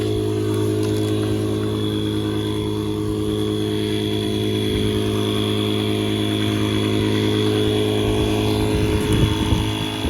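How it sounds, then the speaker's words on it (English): An electric pump inflates a Dometic Residence air awning, giving a steady, loud motor drone and hum that holds constant throughout at close range. "It's about 2 minutes on the pump so far."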